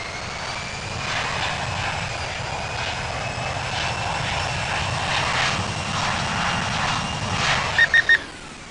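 A Delta Airbus A350 taxis across a runway at Boston, its engines giving a steady, moderately distant jet whine and rumble, with a few short electronic beeps near the end.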